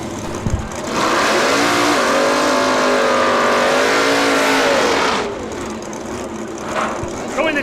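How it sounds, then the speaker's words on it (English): A Fox body Mustang with a Roush Yates Ford engine roars loudly down a drag strip against a Chevy, a sustained high-revving wail with gear-change dips. Crowd and announcer noise sit underneath, and the engine fades off near the end. "this Fox body Mustang with the teeth on the hood, that has a Roush Yates Ford power plant in it"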